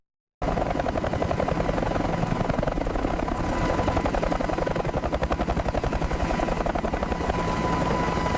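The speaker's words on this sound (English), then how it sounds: "A brief lull on February 9 allows rescue helicopters to attempt reaching buried villages" Rescue helicopters fly during a brief lull in a deadly blizzard, their rotors thumping steadily and loudly from start to end after a short silent opening, with no voices.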